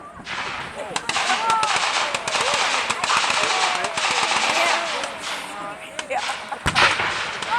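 Rapid bursts of blank-fire gunfire crackle through a WWII battle reenactment at Bowling Green, Kentucky, with machine-gun rattles and sharp reports continuing loudly throughout and a heavy boom near the end.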